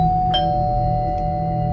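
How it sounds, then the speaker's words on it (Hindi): A house doorbell chimes twice, bright and ringing over a steady background hum, with no voices. "तभी घर की घंटी बजी।"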